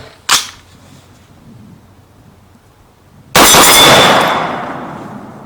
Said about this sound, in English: Just as fast as I could pull the trigger, no problems.